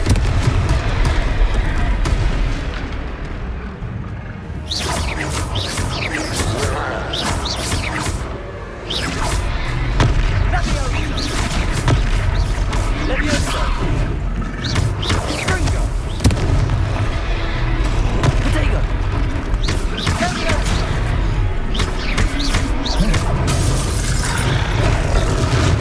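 A Confringo fire spell bursts in a Hogwarts Legacy battle, amid continuous loud crackling blasts, booms and shattering impacts layered over dense combat noise with no break.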